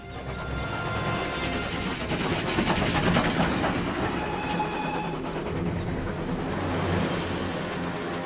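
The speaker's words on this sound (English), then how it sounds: "Have the conductor stop the train just ahead." A train rolling along the rails, a steady loud rumble with faint rhythmic wheel clatter and occasional high squeals, continuous throughout.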